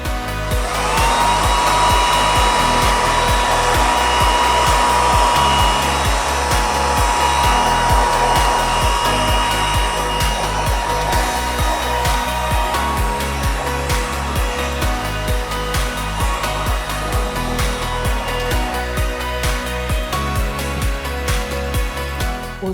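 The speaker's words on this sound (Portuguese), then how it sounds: "O secador é uma mão na roda, né, para esses momentos assim." A hair dryer runs steadily and loudly for a long stretch, blowing on a painted ceramic vase, with a continuous motor whine and rushing air.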